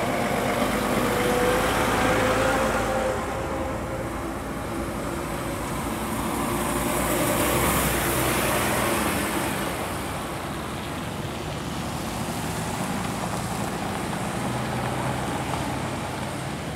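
A Scania truck passes on the A14 near Rothwell amid steady roadside traffic, its engine rumble swelling and fading over a continuous wash of road noise heard from the verge.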